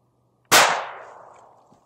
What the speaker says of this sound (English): I'm just shooting pellets. But now, it's probably going to be quite a bit louder than normal pellet rifle.